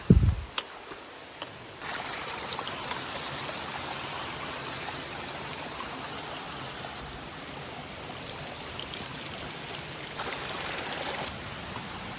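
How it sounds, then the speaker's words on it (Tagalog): Strong current of the Papaya River rushes in a steady, broadband wash of flowing water, close and continuous throughout, with a few faint clicks at the start. "Lakas ng agos, no?"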